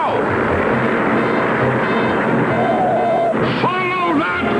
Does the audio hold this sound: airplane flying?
yes